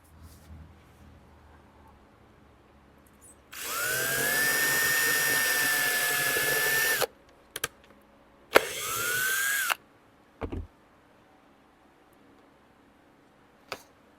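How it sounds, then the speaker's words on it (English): A power drill whirs in two bursts while drilling a hole in a thrifted furniture piece being made over, a long run of about three seconds then a shorter one, close and loud, with small clicks between. "And so I'll have to drill another hole."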